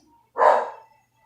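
A dog gives a single loud, close bark in a short, sharp burst that fades quickly in an otherwise quiet indoor setting.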